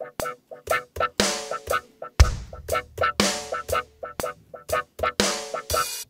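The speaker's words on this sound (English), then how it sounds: "I found this wah-wah clav," A funky wah-wah clavinet plays a choppy reggae rhythm of short plucked chords with sweeping filter tone, accompanied by a deep bass note and crisp percussive hits, no voices.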